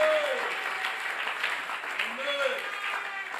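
A church congregation applauding Jesus, steady, dense clapping that stays loud throughout, with voices calling out over it.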